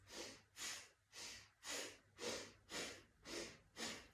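Rapid rhythmic nasal breathing of an energizing breath exercise, mouth closed, about eight quick sharp breath pulses in steady succession, close and fairly loud, with no talking.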